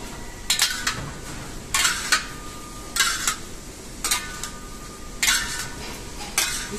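Sliced vegetables for spring rolls being mixed by hand in a bowl make five or six short, crisp bursts of clattering and rustling, evenly spaced about a second apart, fairly quiet and close.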